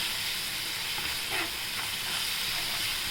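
Soaked split chickpeas sautéing in masala give a steady, close sizzling hiss that stays loud and even throughout, with no voices.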